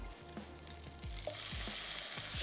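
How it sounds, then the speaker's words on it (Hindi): Kebabs fry in a pan with a faint, steady sizzle and some light clinks and bumps, and the frying grows a little louder toward the end. "चलिए इसको निकाल लेते हैं और बाकी कबाब रख लेते हैं फ्राई होने के लिए।"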